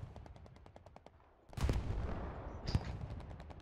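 Artillery fire landing on a capture point in a multiplayer war game: a rapid string of sharp gunfire pops, then two heavy booming blasts with rumbling, moderately loud and close.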